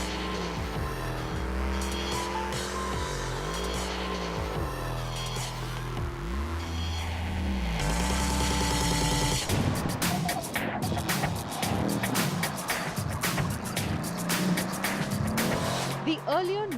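A Mercedes-AMG C63 S laps the Portimao race track, its engine loudly rising and falling through gear changes, then roaring harder with tire squeal and skidding as it corners at speed, heard close throughout.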